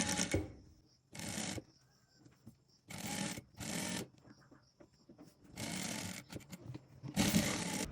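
A sewing machine stitches the neckline edge of an A-line frock in short, even bursts of whirring, separated by quiet pauses while the fabric is adjusted, close and fairly loud.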